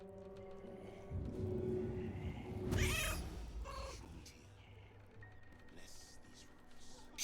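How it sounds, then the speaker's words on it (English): Cat meowing in the video game Baldur's Gate 3, one drawn-out yowling meow in the middle over quiet game music, with a few shorter sounds after it. "You just summoned everybody within earshot to see the meowing cat"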